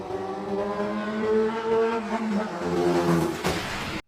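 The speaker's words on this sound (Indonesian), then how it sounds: "tiba-tiba terdengar suara motor" A revving motorcycle engine roars nearby, its pitch rising and falling as it accelerates, then cuts off abruptly.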